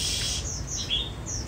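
An oriental magpie-robin sings short, bright whistled phrases, close by and fairly clear, over a steady low background hum.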